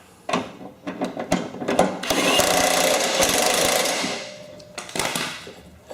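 A pulley nut is tightened down onto a Craftsman/Husqvarna mower deck spindle, with a few sharp clanks and then a steady whirring tool run of about two seconds, close and fairly loud, before more clanks.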